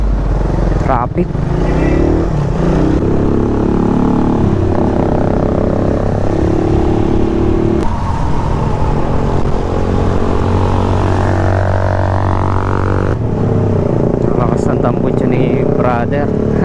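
A Suzuki Raider 150 carb motorcycle with an open pipe exhaust drones loudly while riding in traffic, revs rising and falling, with someone talking over the engine and wind throughout.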